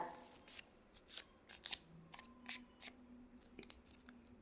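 Scissors cut material to size in a quick series of close, crisp snips, roughly a dozen short cuts at an uneven rhythm, fairly faint and with no talking.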